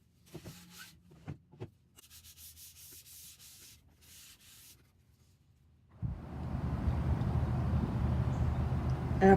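Hand sanding of chalk-painted furniture edges to distress them, starting with scattered brief rubs and scrapes, then a louder continuous gritty rasping that builds and holds to the end.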